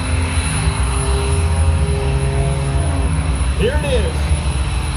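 A propeller airplane performing aerobatics at an air show drones steadily overhead with a loud, shifting engine tone, while a voice speaks briefly over the noise.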